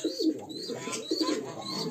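Trained homing pigeons in a loft coo softly in repeated low throaty phrases, close and fairly quiet, with faint fluttering between calls.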